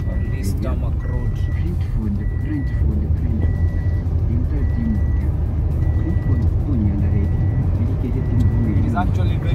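A 2010 Toyota Fielder with a 1.5L, 110-horsepower engine accelerates on a tarmac road, its steady engine drone and road rumble holding loud and close throughout while a person talks over it.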